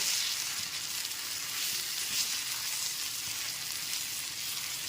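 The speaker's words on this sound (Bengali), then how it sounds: "টমেটো টুকরোগুলো দিয়ে দেওয়ার পর গ্যাসের ফ্লেমটা মিডিয়ামে রেখে এক থেকে দেড় মিনিট একটুখানি টমেটোগুলোকে ভেজে নেব" Tomato pieces sizzle and fry steadily in a pan over a medium gas flame, a dense, even crackle that holds without a break. No one speaks.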